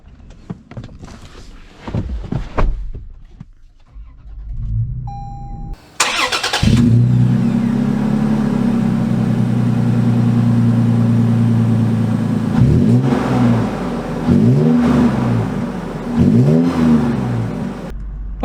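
A 2023 Toyota 4Runner or 2023 Honda Passport TrailSport on the road, with a steady loud engine drone and tire roar that swells in several repeated surges of acceleration, no talk.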